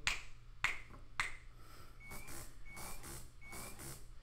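Three sharp finger snaps, then a small programmable robot answers with three short rising electronic beeps, evenly spaced and quiet in a still room.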